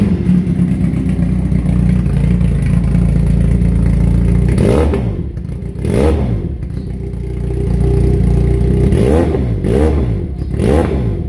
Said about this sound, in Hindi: इसका after market slip on, AC के स्लिप ऑन लगा हुआ है, इसका साउंड नोट मैं सुना देता हूँ